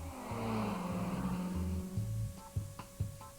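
A Honda Civic Type R with a 2-litre VTEC engine of nearly 200 horsepower drives on a circuit, its engine note climbing loudly through the revs, then cutting back with short blips and gear changes.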